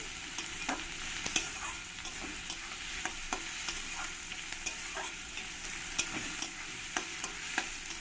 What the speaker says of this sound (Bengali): আমি পেঁয়াজগুলোকে ভালো করে লাল লাল করে ভেজে নেবো